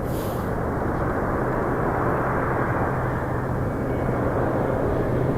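Jazz Embraer 175 airliner arriving from Newark at Toronto Pearson, a continuous loud engine rumble and broadband jet rush that stays steady the whole time with no voices.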